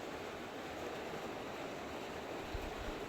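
Steady broadband rush of wind and heavy rain, constant and enveloping, with a few low gusty thumps near the end.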